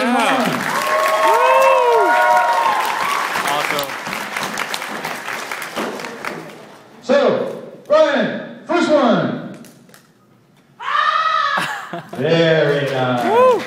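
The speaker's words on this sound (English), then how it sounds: "Give them a round of applause." At the FanimeCon 2014 anime convention, a crowd applauds loudly, then breaks into bursts of cheering, whoops and excited voices that come and go in short waves with brief lulls between them.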